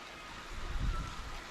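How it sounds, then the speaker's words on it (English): A small babbling brook flows behind a campsite on the German Ridge Trail, a soft steady rushing trickle with a slight swell partway through, heard alone without talk. "Got a little babbling brook behind me."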